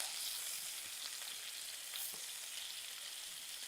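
Scallops sizzle steadily in a hot frying pan, a dense, even hiss that stays close and unbroken, with no talking.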